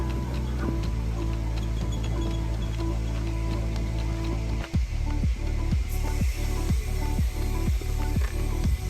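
The chin bar lock on a Steelbird SBA-20 helmet clicks in a rapid, even series of sharp ratcheting ticks close up, following a stretch of low background hum.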